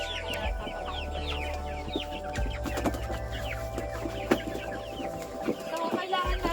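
Free-range chickens cluck and chatter steadily while being fed overripe banana on a farm, with a person talking nearby throughout.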